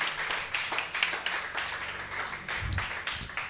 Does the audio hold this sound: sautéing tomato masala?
no